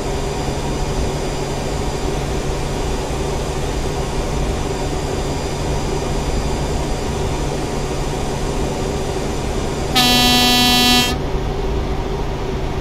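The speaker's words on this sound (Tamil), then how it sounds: "இந்த ஹாரன் நல்லா இருக்கு." Over a constant engine drone in American Truck Simulator, a single loud, deep truck horn blasts for about a second, then the rumbling continues.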